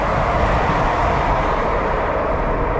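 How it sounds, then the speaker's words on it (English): Trains passing near a village make a steady, loud, broadband rumble that holds for the whole few seconds with no pauses or voices. "just want to sit here and watch the trains pass"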